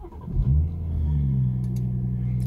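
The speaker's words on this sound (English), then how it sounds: "just start the engine in the normal way." A BMW M140i engine starts and revs: a crank and catch about half a second in, then a steady, close, low idle rumble that holds to the end.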